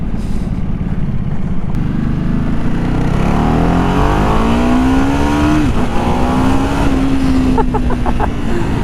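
A 13-year-old Ducati motorcycle engine runs loud and close throughout, its rough idle rising into revs with pitch sweeping up and settling, steady and unbroken with no talk.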